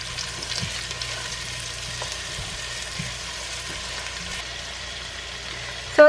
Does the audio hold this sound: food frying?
yes